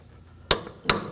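A hammer strikes a chisel wedged into the steering knuckle of a 2013-2019 Nissan Sentra, two sharp metallic clanks about 0.4 seconds apart, loud and close, with quiet between them.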